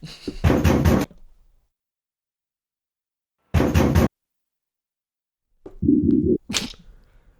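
Knocking on a door: three separate loud bursts of rapid thuds, each about half a second long, with long silent gaps between them, heard close and alone.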